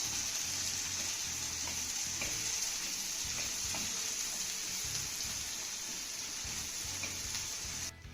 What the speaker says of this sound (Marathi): आता हा कांदा आपल्याला हलक्या सोनेरी रंगावरती चांगला परतून घ्यायचा आहे